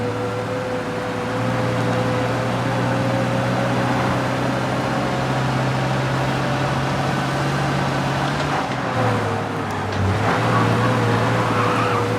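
In Mafia: Definitive Edition, a car speeds along with a loud, steady engine drone whose pitch holds, then dips and rises near the end. No voices are heard.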